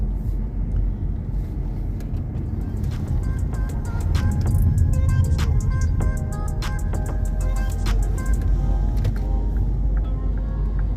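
A car rolls along a road on a scenic trip through Wales, with a steady low engine and tyre rumble throughout, overlaid by music or chimes with bright repeated tones.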